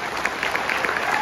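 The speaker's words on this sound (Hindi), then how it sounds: "यहां पर तो उसके लिए एक बार ताली बजा ली सकते" Audience applause at a business event, with a brief burst of steady, fairly close clapping that continues without a break.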